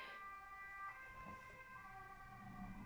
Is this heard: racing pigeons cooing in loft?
no